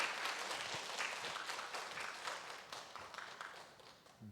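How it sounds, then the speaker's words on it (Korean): A church congregation claps their hands during a Sunday afternoon praise service, a faint, continuous patter of many hands that gradually eases slightly. "양 박수 치는 거 막 세게 쳐주면"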